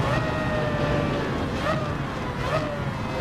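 A Nissan R92CP race car in Gran Turismo 7, its engine a sustained high whine with rising and falling pitch as it shifts, heard at moderate level under a faint background rumble.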